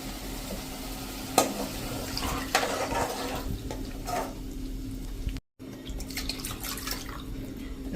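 About one and a half glasses of water pour into cooked tomato gravy in a pot for Gujarati varadiyu shaak, a soft continuous splashing with a few sharper drips and clinks.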